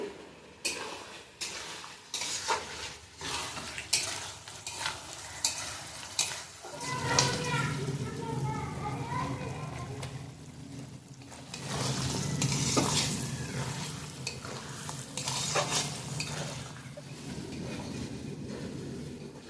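Chicken chaat made without potatoes is sautéed over medium heat: sharp, spaced spatula scrapes on the pan at first, then a fuller steady sizzle with continued stirring, moderately quiet and close.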